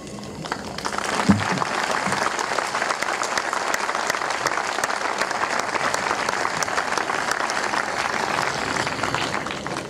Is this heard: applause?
yes